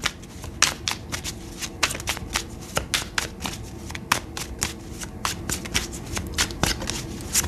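A deck of tarot cards is shuffled by hand, producing rapid crisp riffling flicks and snaps that repeat irregularly at close range.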